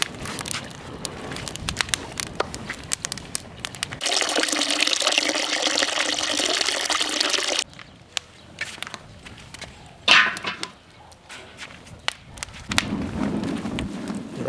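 Water poured into a cooking pot set on a stand while boiling shrimp, a steady rushing fill lasting several seconds between quieter kitchen thumps and clatter.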